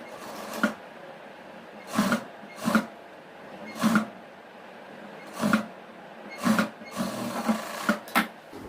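Short bursts of a sewing machine joining palazzo pant pieces, about ten brief stitching runs separated by pauses, close and fairly loud with no talk.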